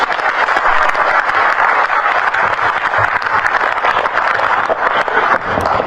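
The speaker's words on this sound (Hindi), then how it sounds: "अपने लिए तो ताली बजा दे" A crowd at a state party organisational workshop in Dehradun, Uttarakhand, claps together in a loud, continuous burst of many hands, close and unbroken by speech.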